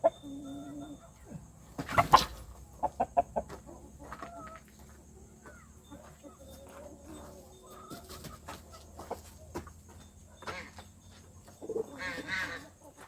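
A white rooster calls among backyard poultry, its clucks and short crowing bursts sounding near but fairly soft, spread across quiet gaps with other birds and a few knocks nearby.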